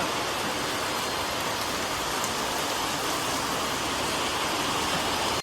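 Heavy rain pours down in a dense, steady roar of broadband hiss, constant and loud throughout with no voices.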